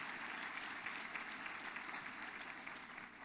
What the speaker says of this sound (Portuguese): Vamos dar salva de palmas para essa turma